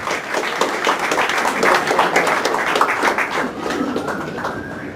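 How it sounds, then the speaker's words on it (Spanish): An audience claps for a former congressman being called to the head table at a book presentation in a school, dense steady clapping with individual claps audible, fading slightly toward the end. "Ponemos aplausos para él."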